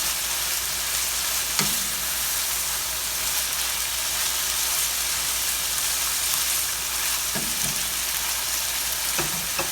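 Thai beef with scallions sizzles and fries steadily in a hot pan, a loud, continuous crackle, with a few brief clanks as the pan is tossed.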